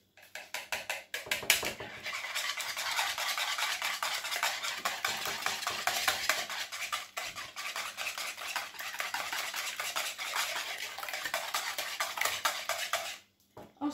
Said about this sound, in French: je prends donc un saladier et je vais commencer par fouetter mes œufs